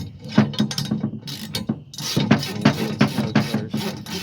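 A hand wrench ratchets in short, uneven clicking strokes as a nut is tightened on a MaxxHaul hitch bed extender, close and metallic.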